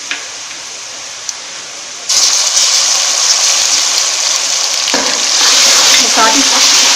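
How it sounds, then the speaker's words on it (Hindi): Ginger garlic paste hits frying onions with a sudden loud sizzle that keeps hissing steadily, then swells again as more goes in and it is stirred, close up with no talking. "अब हम इसमें अदरक लहसुन का पेस्ट शामिल करेंगे।"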